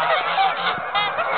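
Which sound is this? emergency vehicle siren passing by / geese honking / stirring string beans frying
geese honking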